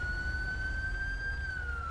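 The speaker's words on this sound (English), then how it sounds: "Alright, we got an ambulance coming for you, Lori" A siren in a police roleplay video game wails as a steady, slowly rising and falling tone over a low road rumble, moderately distant and continuous without talking.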